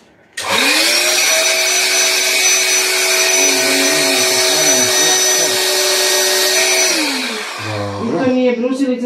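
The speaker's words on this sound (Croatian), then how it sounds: "To nije brusilica, nego pumpa." An electric air pump inflates a family air mattress with a loud, steady droning whine that starts abruptly and runs continuously for several seconds before cutting out, followed by a brief voice.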